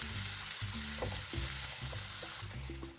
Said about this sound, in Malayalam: ഓയിൽ ചൂടായിട്ടുണ്ട് ഇനി ഇതിലേക്ക് സവാള രണ്ട് വലിയ സവാളയാണ് കേട്ടോ ചെറുതാക്കി അരിഞ്ഞിട്ട് വേണം